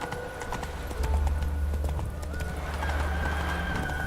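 Hooves of Roach, a horse in The Witcher 3, clip-clop in a steady close rhythm, with a short neigh among the footfalls and a soft game backdrop behind.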